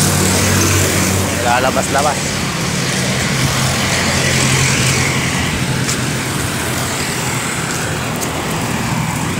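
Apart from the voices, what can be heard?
motorcycle engine as father rides away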